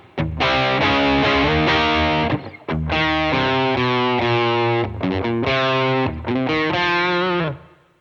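Electric guitar through a Seymour Duncan Saturday Night Special pickup with the volume rolled back, giving a darker, lower-output distorted tone; sustained chords ring for a couple of seconds each, with brief gaps and quick choppy changes toward the end, played alone.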